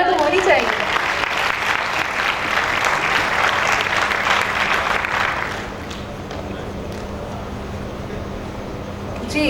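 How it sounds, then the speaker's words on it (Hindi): Enthusiastic audience applause at the Hi Tech Grain Mills customer recognition ceremony, loud dense clapping for about five seconds that then drops to a quieter room murmur with a low hum. "हाईटेक के लिए ज़ोरदार तालियां तो होनी चाहिए"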